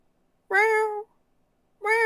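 A human voice imitates a cat's meow twice, a long drawn-out call followed by the start of a second after a short pause.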